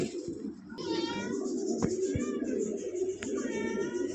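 Yellow Lahore pigeons coo in a loft, soft throaty calls repeating close by over a steady low background hum.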